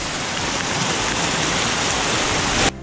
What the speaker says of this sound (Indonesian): Hujan gede, angin juga.